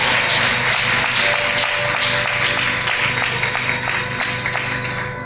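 A church congregation applauding, a dense, sustained wash of clapping that fills the room and slowly fades toward the end.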